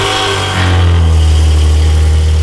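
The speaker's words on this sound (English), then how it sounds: "what sound does a car make?" A Maserati Levante's engine revs up close and loud, a low steady roar that swells and holds after a brief idle.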